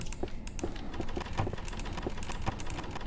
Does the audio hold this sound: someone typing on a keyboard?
yes